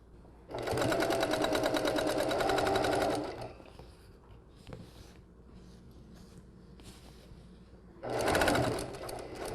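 A sewing machine top stitches fabric in two loud, close bursts of rapid, even needle hammering. The first burst lasts about three seconds and the second comes in briefly near the end, with quieter handling noise in the pause between them.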